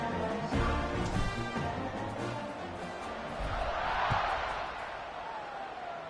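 Home crowd at an Illinois college football game: a steady, loud stadium roar fills the whole stretch, with a tonal band-like layer mixed in and a swell of cheering near the end.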